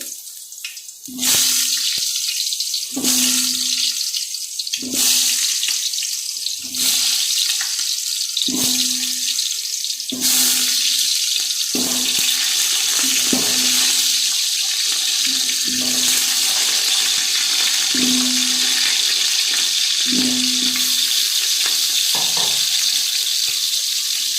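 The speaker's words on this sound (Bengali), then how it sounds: "এই যে আমি এগুলো এখন তেলে ভাজবো ভেজে দিয়ে দিচ্ছি তেলে" Potatoes cut into chunks sizzle loudly in hot oil for a Bengali mint chicken biryani, a steady hiss punctuated by about a dozen regular bursts of sputtering, close and alone.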